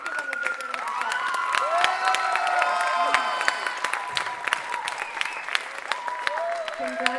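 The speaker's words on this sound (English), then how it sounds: "let's give them a big round of applause" A school concert audience claps and cheers for graduating seniors at a songwriter night, with sustained applause, scattered whoops and voices, and sung or shouted tones rising above the crowd.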